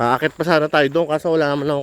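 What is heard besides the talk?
No everyday noise stands out behind the speech.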